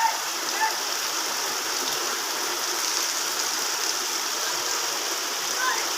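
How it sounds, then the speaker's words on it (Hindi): Heavy rain pours steadily over a village after a night of strong wind, a dense continuous hiss of water without a break, close and loud. "तो रात से बारिश का सिलसिला जारी है।"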